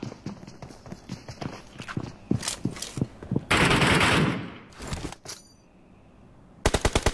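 Loud automatic gunfire in the mobile battle-royale game PUBG Mobile, rapid bursts of close shots repeating with short pauses, a dense roaring stretch in the middle, and a final sharp volley.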